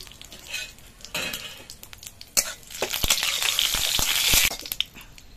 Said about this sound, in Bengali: এবার কড়াইতে অল্প একটু সর্ষের তেল দিয়ে দিচ্ছি। দিয়ে দিচ্ছি একটা তেজপাতা, একটা শুকনো লঙ্কা,